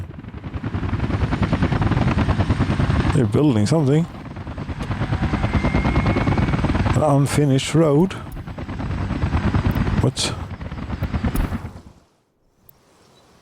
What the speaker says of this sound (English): What's going on with the helicopters?